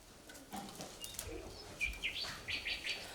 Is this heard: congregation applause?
no